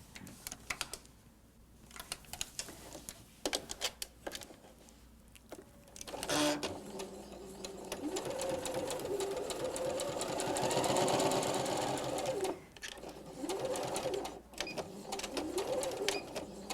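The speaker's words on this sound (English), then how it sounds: "Let's go to the sewing machine and we're going to sew that 1/8 inch seam" A sewing machine stitches a narrow 1/8 inch seam on a quilt hanging sleeve. The motor runs in a steady, close whir for several seconds after a few short starts and stops.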